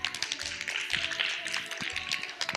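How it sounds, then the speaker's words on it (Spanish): Children at a church kids' program in Managua clap in a fairly quiet, dense patter of hand claps that continues steadily throughout. "Ahora un aplauso."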